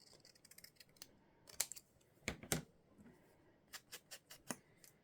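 Scissors snip through a stamp in a series of quick, close cuts, crisp and uneven, with small pauses between the snips.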